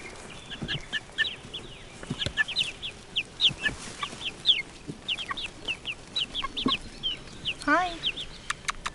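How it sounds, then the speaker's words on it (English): Young six-week-old chickens in an outdoor backyard flock cluck and chirp in frequent short bursts at close range, with scattered soft calls and rustling throughout and a brief rising squawk near the end. "you can have a look at some chickens if you like."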